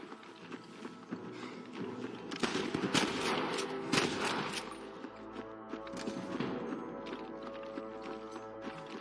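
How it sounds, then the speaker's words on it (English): Bursts of gunfire crack through a busy, noisy mix in Red Dead Redemption, several shots in quick succession amid clattering and a steady background hum, a shootout with snipers. "I can hear more gunshots."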